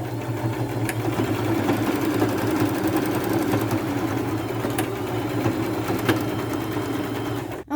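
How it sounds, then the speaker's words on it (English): A sewing machine runs steadily back and forth in zigzag stitches across a fabric tie strip on a nightgown being turned into a bloomers romper, a continuous close mechanical whir with no talking. "I'm just going to lay it on top and do a zigzag stitch probably 4 times across, back and forth about 4 times"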